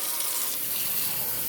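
Tap water runs steadily into a cup in a brief, continuous hiss-like splash, close and even with no talking.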